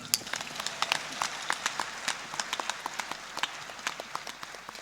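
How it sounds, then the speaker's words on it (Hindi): Audience clapping at an evening talk with meditation and music, a scattered run of individual claps with uneven rhythm and no steady beat, mid-distance and moderately loud, with no voices over it. "बजा लो ताली।"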